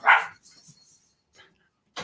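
A dog barks once loudly and close at the start, then a few faint, softer sounds follow before another sharp bark cuts in at the very end; no talking.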